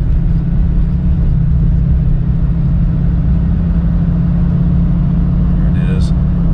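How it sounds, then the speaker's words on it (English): Ford F250 pickup engine clattering and rattling at 1700–2000 RPM while driving, a steady, loud low rumble that runs the whole time with a brief chirp near the end and no talking. "I'll let you listen to the sound that my engine makes between 1700 and 2000 RPM"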